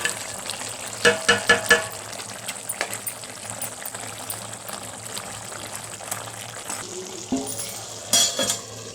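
Dried fish added to cooked brinjal fry in a pan with a steady sizzle, punctuated by several sharp clatters and scrapes of a utensil against the pan.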